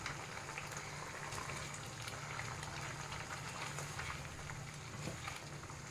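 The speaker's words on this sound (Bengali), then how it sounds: "জলটা এভাবে ফুটে গেছে, এবার আমি বড়াগুলো দিয়ে দেবো।" Water boiling in a pan with potatoes for a Bengali fish-roe curry, a continuous low bubbling rumble with a soft hiss, steady and close with no talk.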